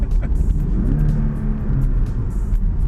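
A 2019 Porsche Cayman GTS manual engine rumbles low and close inside the cabin, holding a steady drone with slight surges, with no talking.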